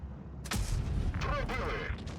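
A tank cannon in WoT Blitz fires a sharp, booming shot followed by a mechanical reload clatter, fairly quiet overall.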